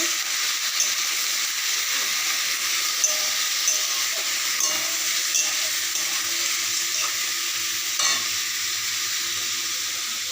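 Lote fish fries in a pan, giving a steady, fairly quiet sizzle and hiss with occasional stirring clinks and soft pops, with no voices.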